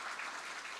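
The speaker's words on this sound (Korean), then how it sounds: "우리 같이 또 박수로 격려하십시다." A church congregation applauds during a Sunday service, a brief, soft, even wash of many hands clapping together at a distance.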